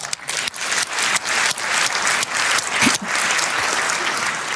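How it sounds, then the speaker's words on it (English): Lecture audience applauding, a dense burst of many hands clapping steadily from start to finish, fairly close and alone without talk. "Round of applause for Rob."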